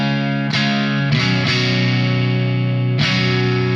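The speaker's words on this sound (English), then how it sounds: "that's clean with the tube, so there's a little bit breakup." Electric guitar chords ring through a tube overdrive channel set clean with slight breakup on a BOSS GE-7 EQ pedal test, four sustained strums in succession, loud and alone.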